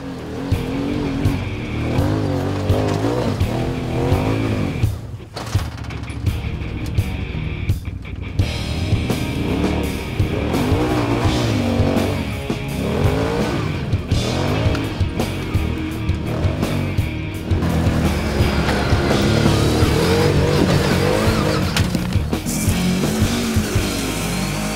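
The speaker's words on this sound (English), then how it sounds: "Traffic on the strip here at Las Vegas is pretty crazy" Traffic along the Las Vegas Strip, with car engines revving and passing and tires squealing in a loud, continuous roar that swells and fades as vehicles go by, close and dense throughout.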